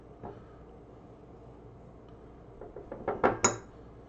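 A spoon scoops honey and knocks against dishes, with a soft tap at first and then a quick cluster of several louder clinks toward the end.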